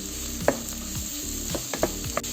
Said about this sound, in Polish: Cebulka nabrała nam już złocistego koloru, więc możemy sobie wrzucić do niej pieczarki. I mieszamy